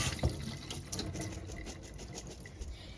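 Cold tap water runs steadily over drained garbanzo beans in a colander, a continuous splashing hiss with faint clatter, close by and with no talking.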